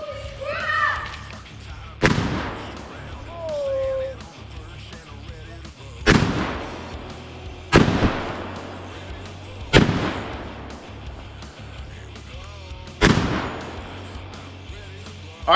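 Five loud 12 gauge one-ounce shotgun slugs fired at a hollow cast iron Peerless 2300 transmission case, each a sharp outdoor blast with a ringing tail, spaced a few seconds apart, with talk between shots.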